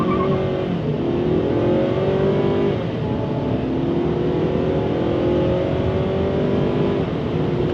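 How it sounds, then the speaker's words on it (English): A 2022 Ford Maverick pickup truck pulls away from a stop under throttle, its engine revving loud and close with rising then shifting tones, no talking. "Come to a nice stop here, and then we're gonna go on throttle."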